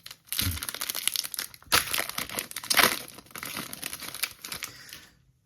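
A One Piece trading card booster pack being torn open, with close crinkling foil, crumpling and ripping in uneven bursts for several seconds, no talking.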